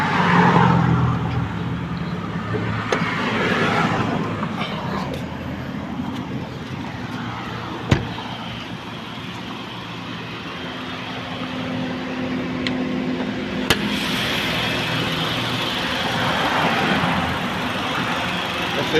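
A 2016 Honda Accord engine idles steadily with a low, even rumble, a couple of sharp clicks breaking through the continuous hum.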